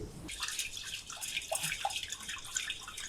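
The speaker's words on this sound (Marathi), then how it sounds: "आता ही डाळ स्वच्छ धुवून घ्यायची" Toor dal lentils are washed in water, producing soft splashing, trickling and dripping sounds at close range, fairly quiet and continuous with no talking.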